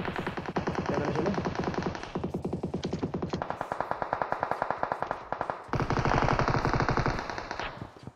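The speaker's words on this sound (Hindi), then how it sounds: "अब देखो पहले गोली धीरे चलती है" Automatic gunfire in the video game PUBG, long sustained bursts of rapid shots with brief gaps between volleys, loud and close throughout.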